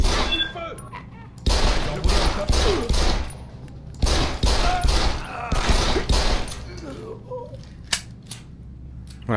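Bursts of gunfire from Deus Ex: Human Revolution, set in Hengsha, crack out in several loud clusters, with scattered clicks and effects between volleys.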